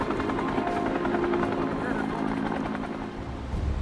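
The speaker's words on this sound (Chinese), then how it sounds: "直升机在海上来回搜救" A helicopter flies over the sea during a search and rescue, its rotor thudding loud and steady throughout, with talking layered over the engine noise.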